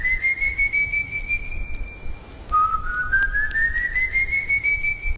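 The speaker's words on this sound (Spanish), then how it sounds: "Era un sonido claro, fino y solitario. Un silbido." A single person whistles a clear, lonely melody: a long thin note glides slowly upward, breaks off, then starts lower and climbs again, loud and close, with no other sound around it.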